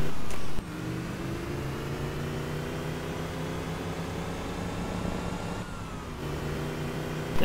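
A car engine in the video game Just Cause 2 drones steadily at high revs for several seconds, a loud continuous hum with a brief dip and shift partway through, and no talking over it.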